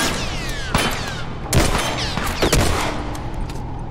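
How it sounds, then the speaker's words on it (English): Gunfire in The Last of Us: Left Behind, a few sharp shots ringing out in quick succession amid a busy game soundscape of debris and echoing impacts. "Focus on this headshot."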